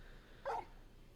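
A dog in the video game Final Fantasy XVI gives a single short bark, faint and brief over quiet background game sound.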